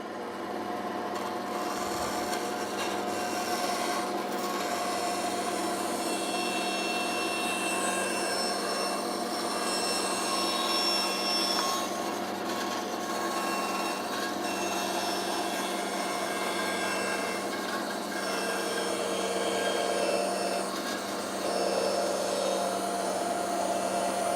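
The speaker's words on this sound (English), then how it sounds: "So let's just bandsaw this and see what happens." A bandsaw cuts the corner of a wooden table edge. There is a steady, continuous whirring rasp of blade through wood for over twenty seconds, close and unbroken, with no voices.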